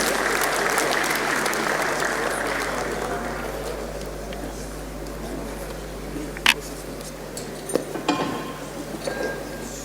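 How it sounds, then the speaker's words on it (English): An audience at a town hall meeting on security applauds the Lagos State Police Commissioner: broad clapping that fades over about five seconds, followed by a low hum with scattered clinks and knocks. "Please give him a fantastic round of applause."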